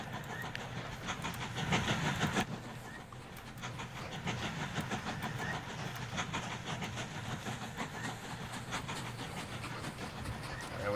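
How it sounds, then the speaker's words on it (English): A little train locomotive pulls away in the Mashinky railway game, a steady rolling clatter with rhythmic clicks and a brief louder burst early on. "There's our little locomotive heading out."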